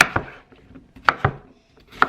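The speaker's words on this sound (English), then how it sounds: "Literally, I'm just chopping it however." A knife chops cucumber on a cutting board in a home kitchen, a few sharp, irregular thunks close by with brief pauses between strokes and no talking.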